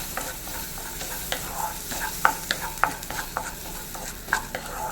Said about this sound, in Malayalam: അത് നമുക്കിതുപോലെ ഒന്ന് വറുത്തെടുക്കാം